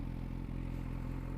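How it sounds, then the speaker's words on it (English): A 2021 Kawasaki Z H2 motorcycle fitted with a slip-on exhaust holds a steady, low engine rumble for a brief moment. The sound is fairly quiet, with no talking. "let's have a little listen to see what this bike sounds like with that slip-on."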